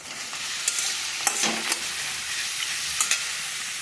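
Spinach fries in a hot pan with a steady bright sizzle and hiss, broken by a few sharp scraping strokes of a spatula as it is stirred, close and loud without any voices.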